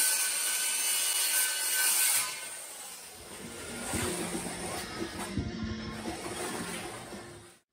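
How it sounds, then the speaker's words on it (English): Circular saw cutting a 1/8 inch aluminum sheet for a Ram ProMaster van kitchen wall, a bright high-pitched screech that fades into a lower grinding, rattling rumble as the blade runs down and stops. "I just used a circular saw to cut the 1/8 inch aluminum"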